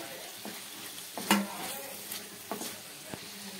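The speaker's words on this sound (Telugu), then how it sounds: "ఇలా టమాటా వేసి కలుపుకొని ఒక 2-3 మినిట్స్ మగ్గించుకోండి" A spoon stirs tomato into radish curry frying in a pan, with soft sizzling underneath and a few sharp scrapes and clinks spaced across the few seconds; no talking.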